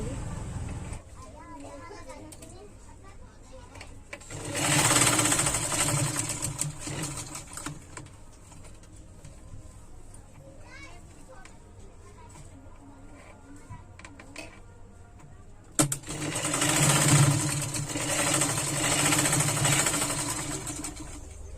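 Sewing machine stitching tassels along a lehenga, running in two loud bursts separated by a quieter stretch of handling and faint background voices.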